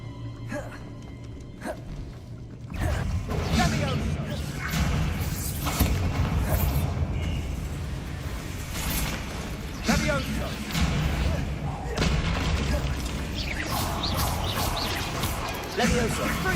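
A Bombarda explosion spell cast in the Hogwarts Legacy video game: after a quiet opening, a loud blast hits, followed by a run of thuds and crashing debris, with a voice calling out spells over the noise.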